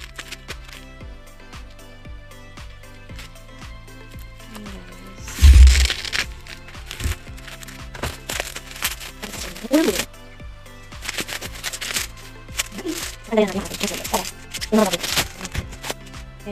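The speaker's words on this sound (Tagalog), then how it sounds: "meron na akong gunting para ma-open na natin ito" Scissors cut open the sealed plastic packaging of a Mac hair straightener with crisp crackling snips and crinkles in several bursts, close up, with someone talking in between.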